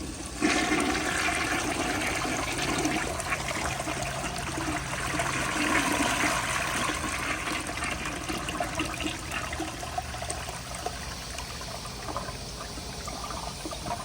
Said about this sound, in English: now what I'm gonna do is turn down the pressure, and I'll give y'all another flush just so y'all can see the difference